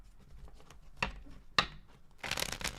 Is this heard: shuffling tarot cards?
yes